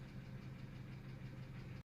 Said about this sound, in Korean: 엔진 소리를 들어보는 시간을 갖도록 하겠습니다